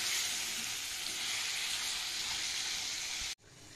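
Chopped tomatoes with salt and red chilli powder cook in a pan, giving a loud, steady close sizzle that runs unbroken and then cuts off abruptly near the end, leaving quiet room tone.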